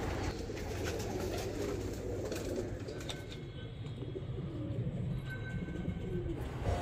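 Teddy pigeon chicks coo softly and continuously at close range, a low murmuring bird sound over a steady background with no talking.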